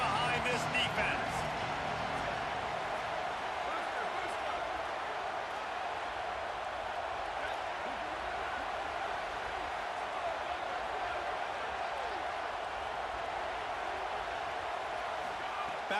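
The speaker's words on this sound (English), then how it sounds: "Big third down as the crowd gets behind this defense." Stadium crowd at a Nebraska football game roaring for the defense on a big third down, a steady broad wash of cheering that holds at an even level from start to finish with no clear breaks.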